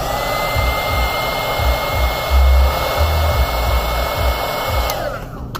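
A heat gun warms an iPhone 6s Plus with a loud, steady blowing roar close by, lightly pulsing underneath, before it switches off just before the end.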